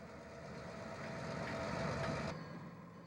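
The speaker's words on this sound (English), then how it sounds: "The Katy Switcher trundles off to deliver cars." Katy switcher locomotive at State Line interlocking, idling then trundling off to deliver cars: a steady low diesel rumble with a sustained tonal hum, ending with a drop in the upper noise near the end.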